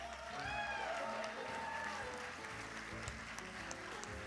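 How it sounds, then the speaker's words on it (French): Faint audience applause for a volunteer called up on stage at a live comedy show, a soft, steady patter of clapping lasting several seconds. "On va l'applaudir pendant ce temps-là"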